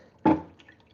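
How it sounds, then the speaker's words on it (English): A single short burst of fresh green juice dripping and splashing through a small kitchen strainer, loud and close, then fading quickly to quiet. "our little strainer that strains all of our little juice"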